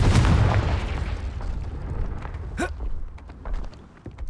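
Spell blasts of Incendio and Confringo in the video game Hogwarts Legacy: a loud booming burst at the start, then a sharp whooshing crack midway, over a rumbling game soundscape.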